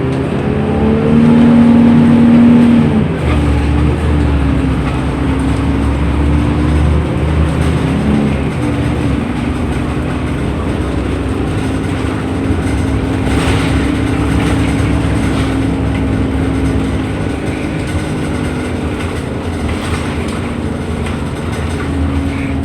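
A TransJakarta Mayasari bus on corridor 6C heading to PIK 2 carries a steady low engine rumble and road noise from inside the cabin, loud and continuous throughout, with no talking.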